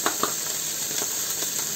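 Chopped garlic dropping into hot oil in a small pot already holding green pepper, giving a steady close sizzle with a few soft bumps of stirring near the start.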